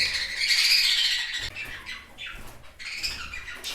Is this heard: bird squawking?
yes